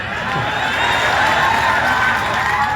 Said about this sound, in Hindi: अरे ताली वाली बजा दे भाई